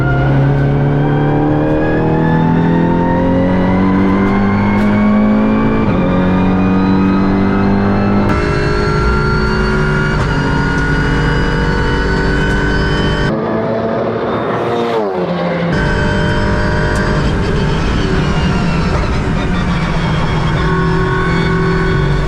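A race car with a sequential straight-cut gearbox accelerating hard around Silverstone, loud and close, engine note climbing repeatedly through quick upshifts with a short lift midway, no talking.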